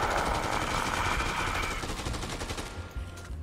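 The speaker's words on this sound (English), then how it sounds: "It's an assault rifle!" Rapid automatic fire from an assault rifle in the Dead Rising 2 video game, a dense continuous burst that stays loud and close before thinning slightly toward the end, with game music or ambience underneath.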